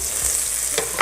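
Ginger and pepper sizzle steadily in a wok for a squid salad, a close bright hiss with a couple of stirring scrapes near the end, no voices.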